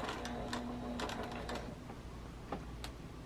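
A sewing machine stitches the mitered binding corner of a quilt. Its rapid mechanical clatter runs in short bursts, faint and close, with a brief whirring hum in the first second.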